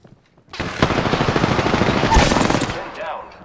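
Gunfire in Apex Legends sounds as a loud, sustained automatic burst of rapid shots lasting about two seconds, then tapers off.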